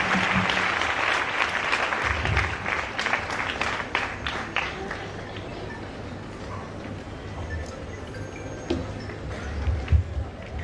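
An audience at a church meeting breaks into applause, loud dense clapping at first that thins into scattered claps and fades toward the end, with faint murmuring beneath.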